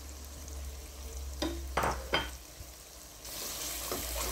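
Biryani spices (red chilli, turmeric, salt, cumin powder, crushed coriander) fry in a pan, a soft, low sizzle broken by a few sharp scraping stir strokes, then swelling into a brighter hiss.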